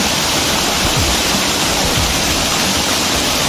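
Raikal waterfall in a Telangana village pours with heavy flow, a loud, steady, broadband roar of rushing water that stays constant throughout, close by and with no voices.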